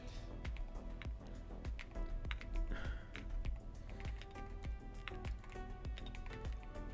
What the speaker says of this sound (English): Oh God, I hear some typing.